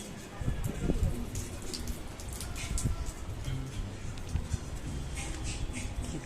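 Steady rain patters and hisses outdoors on an overcast day, a dense continuous wash of drops with a few louder splashes, and faint voices low in the background.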